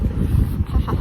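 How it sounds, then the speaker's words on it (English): Wind gusting across a bay, rumbling and buffeting the microphone in a steady, close roar with slight swells, no voices. "It's already windy. It's coming, it's coming. The wind is coming."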